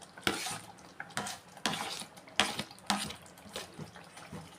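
Fried capsicum being stirred into thick gravy in a pan, with repeated soft scraping and clinking of a spoon against the pan in irregular strokes, faint and close, with a light sizzle underneath.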